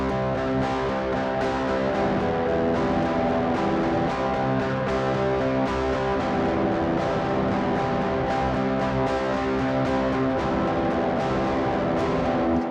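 Distorted electric guitar power chords strummed in a driving, steady rhythm, loud and continuous with rapid repeated strokes throughout.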